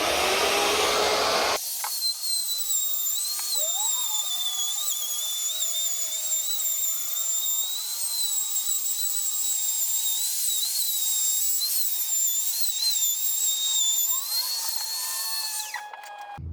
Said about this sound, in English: am now flush trimming the edges of all of the walls and stuff